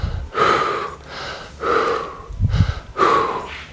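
A person breathes hard in a rhythmic pattern during an exercise movement, with sharp audible inhales and snorting exhales repeating about every second, close to the microphone.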